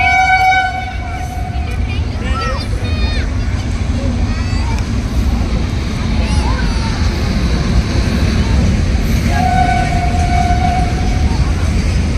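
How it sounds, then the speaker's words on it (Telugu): A train rumbles past loudly with a steady roar, its horn sounding at the start and again near the end, while people talk nearby. "ఇదిగోండి ట్రైన్ వస్తుందండి"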